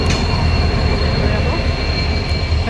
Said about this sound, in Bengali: ট্রেন ঢুকে গেছে আমাদের